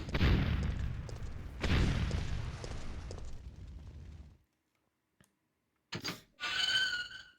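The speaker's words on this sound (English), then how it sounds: "I sure hope nobody heard that explosion" An explosion in the 1999 video game Resident Evil 3: Nemesis comes as two heavy booming bursts, each decaying over a couple of seconds. A stretch of silence follows, then brief metallic clanks and a short clatter.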